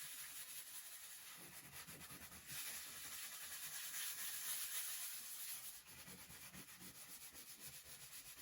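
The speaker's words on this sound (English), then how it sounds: "I've used the sandpaper to sand it all down." Sandpaper scrubs across a painted wooden sewing table in a continuous rasping hiss, close and fairly faint, with rhythmic back-and-forth strokes that grow briefly more intense in the middle.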